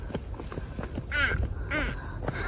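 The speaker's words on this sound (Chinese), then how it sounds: "乌鸦在叫啊" A crow caws twice outdoors on a family road trip near a palace-like hilltop site, the calls fairly faint and distant amid footsteps and ambient background noise.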